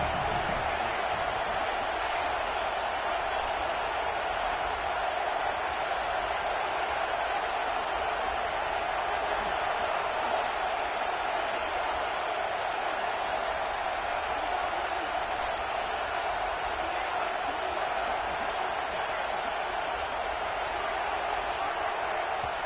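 A steady, dense roar from a packed stadium crowd in a college football video game swells evenly and continuously, filling the background without letting up.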